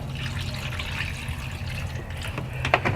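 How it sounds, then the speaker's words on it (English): Water poured steadily into a cooking pot, a continuous near splashing and filling rush with a few brighter drips and splashes toward the end. "The final stage is we add our water and we bring it up a ways with the water."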